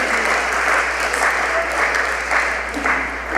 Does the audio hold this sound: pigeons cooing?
no